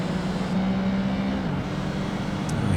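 Race car engines in Project Gotham Racing 2, Coupe Series, droning steadily and loud throughout, with a pitch shift midway as another car draws close in the slipstream.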